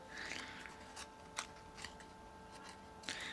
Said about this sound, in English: I'ma just cut it out from this white piece